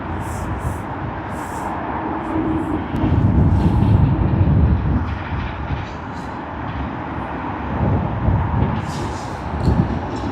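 A Qantas QF26 airliner on the Haneda service at Sydney Airport produces a broad, steady jet engine roar that swells midway, heard from a distance alongside faint background noise.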